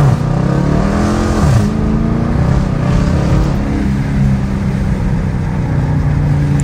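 A Dodge Challenger R/T with the 345 Hemi V8 driving through a snowstorm, its engine droning loudly inside the cabin, rising in pitch with a revving downshift early on, then settling into a steady, heavy rumble.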